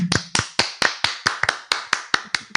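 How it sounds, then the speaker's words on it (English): Evenly spaced sharp claps or taps, about a dozen in a steady rhythm, close and clear with no voices. "Round of applause."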